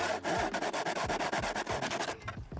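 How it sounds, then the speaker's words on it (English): A handsaw cuts a 45-degree angle through wood in a steady run of close, rasping back-and-forth strokes that slow and fade near the end. "I'm gonna have to cut four pieces with a 45 degree angle on them with a handsaw"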